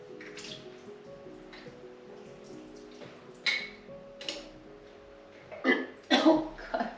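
Water is poured out of a container while a pepper plant is prepared for overwintering. Quiet drips come first, then several close, sloshing splashes toward the end.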